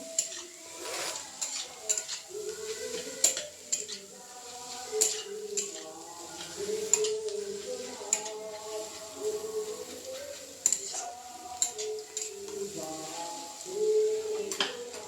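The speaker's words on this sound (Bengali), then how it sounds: "তো আমি এটাকে ওইভাবে ভালো করে মিশিয়ে নেব" Chow mein being tossed and mixed in a pan with green chillies, black pepper and meat masala: repeated clanks and scrapes of a utensil against the pan at irregular intervals, over a faint sizzle, with occasional talk.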